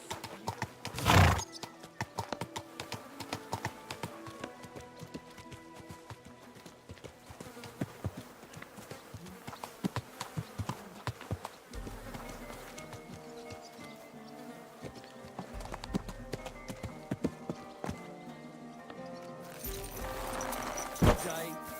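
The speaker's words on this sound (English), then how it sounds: "Watch out with that horse!" Horse hooves clip-clop steadily with occasional whinnies, layered over a busy soundtrack of music and ambient effects from the video game Kingdom Come: Deliverance 2, with brief voices.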